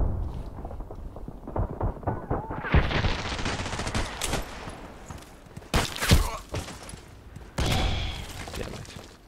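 Rapid weapon fire in the online shooter Contract Wars, long dense bursts of gunshots rattling continuously with brief gaps, loud and close, with a few heavier impacts between volleys.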